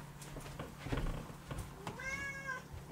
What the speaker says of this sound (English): But Mia, let one of the cats in here.